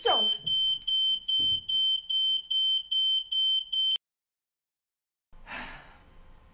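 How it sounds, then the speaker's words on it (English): A smoke alarm in an apartment, set off by food left burning on the stove, gives about ten loud, steady high beeps in a regular rhythm, with breathy gasps beneath. It stops abruptly, then a quieter rustling follows after a pause. "I set the fire alarm off because I left my food cooking in the stove and it burned."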